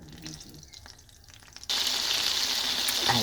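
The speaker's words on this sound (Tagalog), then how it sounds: "i-fry na natin yung ating chicken" Chicken pieces dropped into hot oil in a pan, a sudden loud sizzle bursting in partway through and holding as a steady crackling hiss after quieter kitchen handling sounds.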